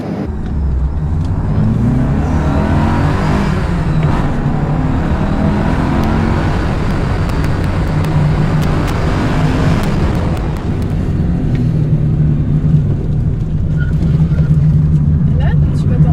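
Alfa Romeo 33 with a boxer engine accelerating on the road, heard from inside, a loud steady engine drone rising and falling through the gears, with people talking over it.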